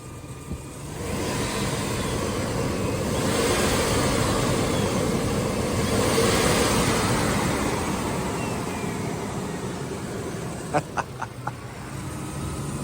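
A flood-damaged Chevrolet S10 Blazer's engine idles steadily and revs up and back down twice in a long, even rumble heard alone, followed by a few short clicks near the end.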